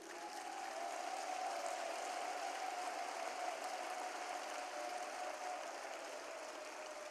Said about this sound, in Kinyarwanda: Imana yacu twayiha amashyi menshi cyane.